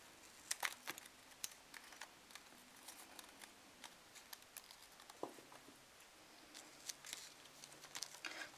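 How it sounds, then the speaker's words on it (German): Scissors trim the edges off paper with double-sided tape for a Christmas star decoration, making close, crisp snipping clicks in an uneven rhythm that runs throughout, with some soft rustling of the paper. "und schneidet jetzt hier auch wieder die Ränder ab."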